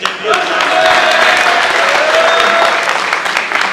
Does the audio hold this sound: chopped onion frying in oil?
no